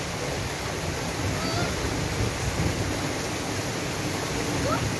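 Heavy rain with mountain runoff rushing strongly, a dense, steady broadband roar that stays loud and constant throughout, with no clear voices over it.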